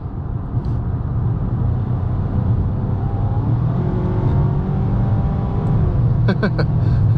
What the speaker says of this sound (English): This little car gets up and goes really quickly